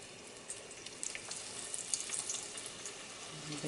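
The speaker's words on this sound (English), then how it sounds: "You can see they're sizzling right away." Loaded mashed potato balls sizzle in hot oil, a continuous bright crackling hiss with scattered pops that swell as they settle into the fryer, close up and with no talking.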